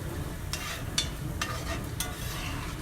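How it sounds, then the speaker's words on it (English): Onions and peppers are stirred in a pan where broth has been added, giving a steady low sizzle with several soft scraping strokes spaced about half a second apart. "I'm stirring up my onions and peppers"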